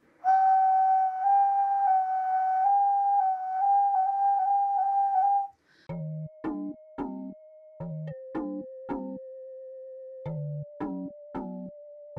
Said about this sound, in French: ce petit bonhomme, c'est un second sifflet.